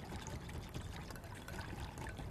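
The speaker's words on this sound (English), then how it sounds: "Just dissolve that Jell-O into that hot boiling water." Hot boiling water is poured onto Jell-O powder for a strawberry soda cake, giving a dense, continuous close pouring and trickling rush that lasts a couple of seconds with no talk.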